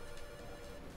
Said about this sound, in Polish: Aha, telefony znowu zaczęły dzwonić, wydzwaniać.